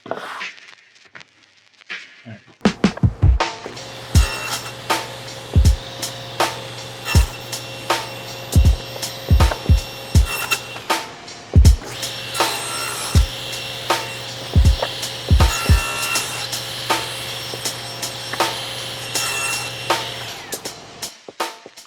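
Saw cutting a wooden tenon for a triple miter joint, the workpiece pushed on a miter sled: a steady motor hum under a series of sharp, repeated cutting bursts, close and loud, with no talking.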